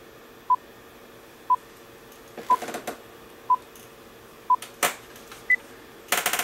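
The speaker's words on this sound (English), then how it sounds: "And start the countdown." Five evenly spaced short electronic countdown beeps sound about a second apart before recording starts, ending in a higher final tone, with faint handling clatter between them over low room hiss.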